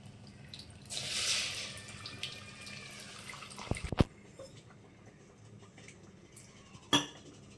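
Tamarind water pours into a pan with a brief splashing hiss, followed by a couple of sharp metallic clinks against the pan.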